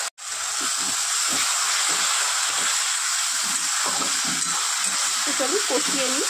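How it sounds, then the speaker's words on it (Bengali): Turmeric, chili, cumin and coriander powder sautéing with a little water for a silver carp curry, a loud continuous sizzling hiss close up, with a voice speaking briefly near the end. "হলুদ গুঁড়ো, লঙ্কা গুঁড়ো, দেবো জিরে ধনে গুঁড়ো, আর দেবো অল্প জল। এবার কষিয়ে নেব।"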